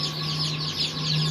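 Chickens and young chicks on a farm cluck softly and continuously nearby, a brief burst of fowl calls over a low steady hum.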